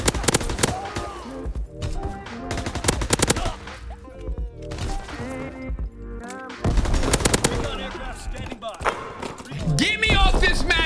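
MP40 submachine gun firing in Call of Duty Vanguard, with repeated loud bursts of rapid automatic fire mixed with other battle noise throughout.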